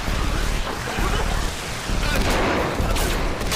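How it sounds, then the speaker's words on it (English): Gunfire in a shootout in Woodbury from The Walking Dead, dense overlapping shots and bursts in a continuous loud barrage with impacts, and voices mixed underneath. "What follows is a shootout in Woodbury"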